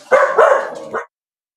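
A dog barks in a quick burst of two or three sharp, loud woofs at close range, then abrupt silence.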